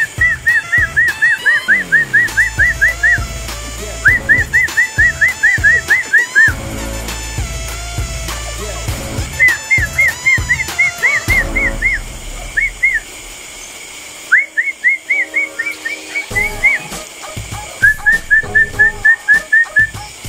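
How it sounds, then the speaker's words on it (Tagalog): A person whistles repeated short rising chirps in bursts to call day-old quail chicks on a farm, the whistles close and clear over faint background noise. "Sisipol tayo."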